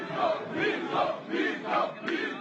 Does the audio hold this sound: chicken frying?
no